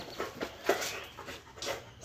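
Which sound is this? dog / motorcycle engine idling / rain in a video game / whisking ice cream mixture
dog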